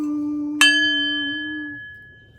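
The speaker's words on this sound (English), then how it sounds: "The freedom bell." A single bell is struck once, giving a bright, clear ring that sustains and slowly decays over about two seconds over a low steady hum, with no voices.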